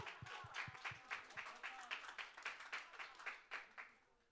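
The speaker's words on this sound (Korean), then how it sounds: "생각보다 박수 소리가 적었네요" Sparse applause from a youth church congregation at a Sunday service: a thin scattering of hand claps, fairly quiet, fading out near the end.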